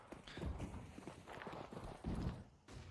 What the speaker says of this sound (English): should also hear a lot of footsteps